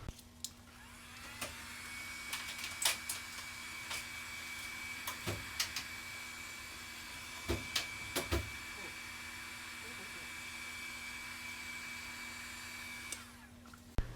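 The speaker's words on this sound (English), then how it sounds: "I'm going to go ahead and take the heat gun and heat up the old gasket" Heat gun warming the old gasket on a Scion tC hatch latch cover: a steady, loud blowing hiss with a constant hum runs throughout, broken by a few sharp clicks and knocks.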